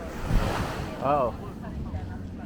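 Wind buffeting the microphone by the sea at the Bahia Principe resort in Jamaica, close rumbling gusts with surf noise underneath and a voice briefly heard.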